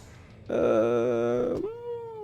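A cat gives a single drawn-out meow at close range, rising and falling and ending in a short trailing tone, in an otherwise quiet room.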